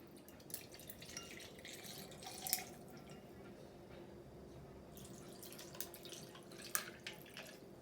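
Bourbon poured into cocktail glasses for a Gold Rush, a faint, thin liquid trickle with a few small clinks against a quiet room background.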